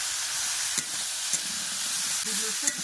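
A spiced curry with bay leaves, salt, turmeric, chilli powder and coriander leaves sautéing in a pan, with a constant close hiss and sizzle broken by a few soft stirring knocks.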